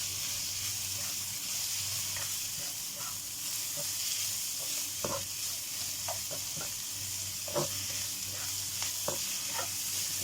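White onions sizzle in a pan for Filipino escabeche, a soft continuous frying hiss with scattered clinks and scrapes of a utensil stirring, fairly quiet and without voices.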